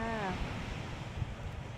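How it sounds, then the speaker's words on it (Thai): Sea waves at Khao Phlai Dam beach in Nakhon Si Thammarat make a steady, soft wash of surf with wind noise, following a brief tonal sound at the start. "ตอนนี้เราอยู่ที่ทะเลเขาพลายดำนะคะ"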